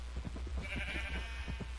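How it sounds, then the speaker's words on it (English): Sheep in Minecraft bleating in a quick run of short, nasal calls, several bleats close together, moderately loud against a quiet game background with no talk. "Ah, sheep in a minecart."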